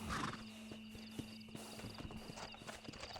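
A horse in the video game Red Dead Redemption trots with quick, even clip-clop hoofbeats, preceded by a brief whinny, set against a low, steady game ambience.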